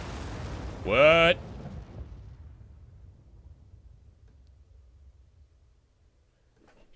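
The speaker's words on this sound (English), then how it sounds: "That's a big old explosion." A deep explosion rumble in the video game Zero Time Dilemma rolls out and slowly fades over several seconds, with a brief spoken exclamation near the start.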